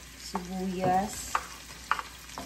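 Onions sauté after the ginger and garlic in a pan, stirred in close up: a steady sizzle with scraping strokes and a few sharp clicks of a utensil on the pan.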